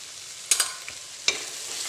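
Salt being stirred into fried onions in a pan while cooking a dry Punjabi tinda sabzi, with two sharp scraping stir strokes rising over a low steady sizzle.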